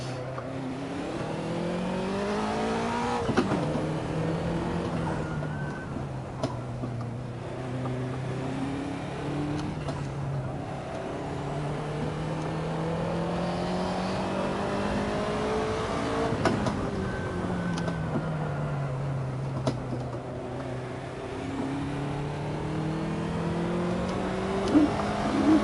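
Race car engine in the Assetto Corsa video game revving steadily through repeated gear shifts, pitch climbing and dropping in a continuous loud drone with no talking.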